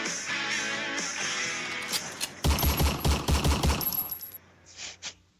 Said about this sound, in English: A few gunshots, real quick.